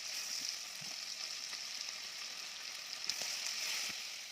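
Chicken gizzards fry in melted butter in a pan, giving a steady, even sizzling hiss that carries on throughout with no voices.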